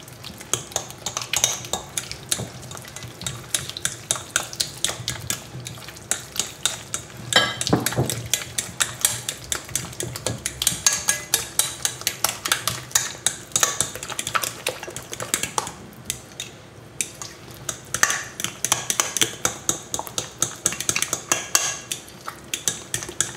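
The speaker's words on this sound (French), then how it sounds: "Et on mélange." Ricotta terrine mixture with an added egg stirred briskly in a bowl, a long run of rapid, rhythmic utensil clinks and scrapes against the dish, close and steady without talk.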